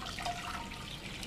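Water is poured into a cooking pot on a stove to boil jurubeba berries, a steady rushing, splashing stream close by with no voices.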